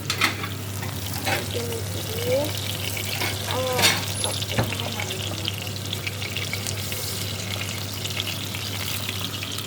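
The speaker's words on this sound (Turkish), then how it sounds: "Şimdi arkadaşlar pilavımızın malzemelerini karıştırıyoruz." Sizzling ingredients for a bulgur pilaf being stirred in a hot pan, steady frying hiss with occasional scraping strokes of the spoon and a faint tap-water trickle, no talking.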